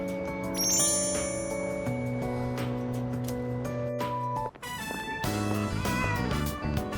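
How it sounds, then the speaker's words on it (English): A cat meows in Persona 3 Reload, a short call set against ringing game chimes and a sustained musical tone, with a brief dip in the middle before the tones resume. "Was that a cat's meow?"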